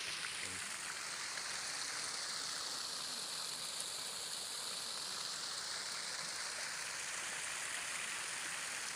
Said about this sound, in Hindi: ये ओवरफ्लो हुआ था। अब ये देखिए, ये कई माह तक ये पानी इसी तरह बहता रहेगा।